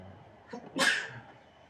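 One quick sneeze, a short intake followed by a sharp burst, heard in a quiet room with faint background hum.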